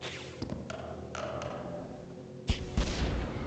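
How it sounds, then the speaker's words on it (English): A flash grenade goes off in the 1994 PC game Cyberia, a sharp burst followed by a short second thump over a low steady background hum. "Uh-oh, flash grenade."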